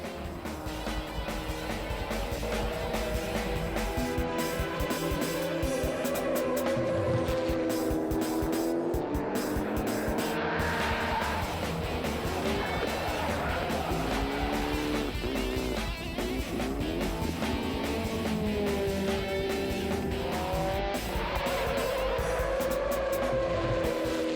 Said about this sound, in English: entertainment doesn't get better than Andrew Hawkswood on rally tyres on tarmac